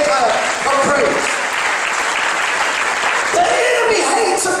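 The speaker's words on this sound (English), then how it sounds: "somebody give him a hand clap of praise." A church congregation breaks into a loud, sustained round of clapping in praise, broad and dense throughout, with voices shouting and cheering over it.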